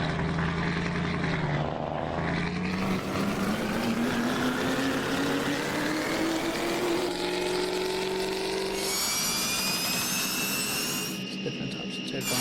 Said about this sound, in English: So obviously this is exhaust, so it's open pipe because the truck's under load.